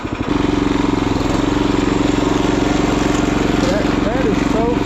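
A Wheel Horse lawn tractor fitted with a swapped-in Predator engine starts up and drives nearby, its loud, steady single-cylinder putter running continuously while a voice speaks over it toward the end.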